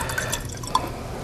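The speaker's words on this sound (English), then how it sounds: "let's build up volume for the system we're going to prepare with some deionized water" Deionized water is poured into a lab container, producing a few light close drips and splashes over a soft liquid background, brief and without talk.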